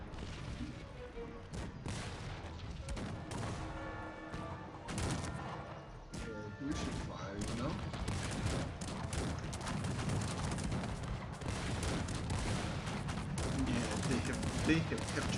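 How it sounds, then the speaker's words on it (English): Artillery fire in the strategy game Cossacks 3, a battle din of repeated cannon booms and crackling volleys that thickens over time, with speech mixed in. "My artillery is good."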